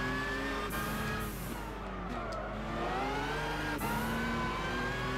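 Race car engine in Gran Turismo 6 at the Goodwood Festival of Speed, a loud continuous drone with rising and falling pitch as the car shifts gears and takes a wide corner, with no talk over it.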